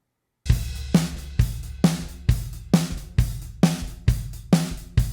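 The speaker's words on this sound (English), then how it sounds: "So here's my final mixed drum sound." A punchy, mixed classic rock drum kit plays a steady beat, about eleven evenly spaced hits of kick and snare with ringing cymbals, loud and alone after a brief silence.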